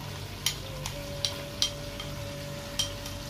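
Chicken for a chicken karahi sizzles softly in a pan, with a faint steady frying hiss and a few light scraping clicks as it is stirred.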